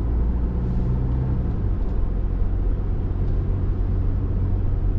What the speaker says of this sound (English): we're going to drive on the beach for a bit